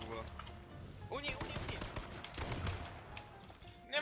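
Gunfire rings out in the video game H1Z1 as a burst of quick shots, followed by a few more scattered shots at a moderate distance, with players' voices faintly mixed in.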